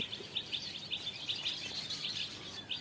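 Small birds chirp in short, repeated high bursts along a road on a morning at Baliakandi bazar in Rajbari, Bangladesh, sounding faint and somewhat distant over a soft background hiss.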